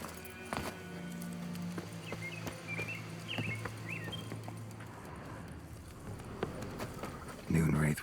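Horse hooves clip-clopping in the video game The Witcher III, a steady rhythmic trot under ambient outdoor sounds with birdsong, alongside a voice speaking.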